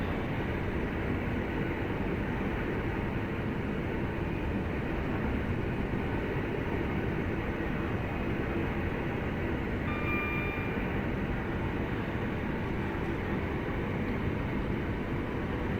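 A train in Train Sim World 3 running from Bromsgrove toward Birmingham New Street at around 80 to 90 mph, giving a steady, loud, continuous rumble and rail roar with no talking.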